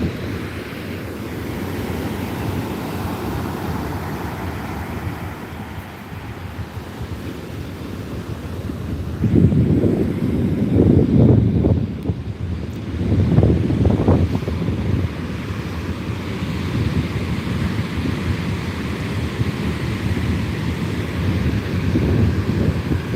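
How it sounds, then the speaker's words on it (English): Ocean surf rolling in at high tide on the California coast, steady wind buffeting the microphone throughout, with louder crashing waves building and breaking around the middle, no talking. "We're having high tide, and we're here to watch the waves"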